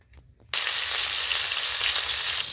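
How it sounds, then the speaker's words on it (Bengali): Vegetables are dropped into hot white oil in a wok, bursting into a sudden loud, steady sizzle after a brief quiet moment, close by and without voices. "কড়ার মধ্যে আমি একটু সাদা তেল দিয়ে দিয়েছি। তেলটা দিয়ে আমি সবজিগুলো ভালো করে কষে নেব।"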